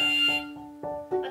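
A children's picture toy plays a tinny electronic trumpet tune, several short loud synthetic tones in a bouncing rhythm, close up with no speech.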